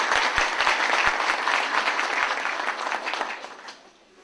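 Applause from an audience at a Silivri local political gathering as a municipal council candidate is invited to the microphone, a steady dense clapping that carries throughout and fades toward the end.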